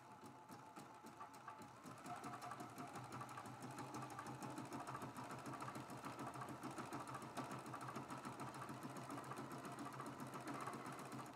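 A sewing machine runs continuously at a steady pace, stitching down the raw edges of a scrappy art quilt border, close and moderately loud with a constant rhythmic whir.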